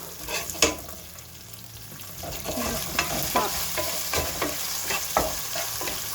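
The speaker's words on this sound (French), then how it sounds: "Et j'ai mis le poisson, je vais mélanger." Fish pieces with thin onion slices being stirred in a pan, with repeated scraping strokes over a soft sizzle, steady and close.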